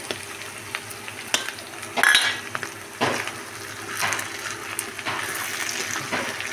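Broad bean curry with chili powder being stirred in a frying pan: a spoon scrapes and knocks against the pan in irregular strokes over a soft steady sizzle, close and fairly quiet.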